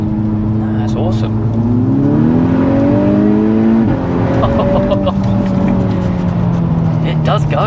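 A tuned Stage 2+ MK6 VW Golf R making 367 hp accelerates hard from inside the car, its engine rising in pitch through two gear changes, loud and close, with people talking over it.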